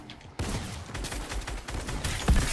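Gunfire in Fortnite Chapter 2 Season 3's Knockout Air Raid limited-time mode: a loud, dense run of rapid shots that starts abruptly and keeps going, with a heavier burst near the end.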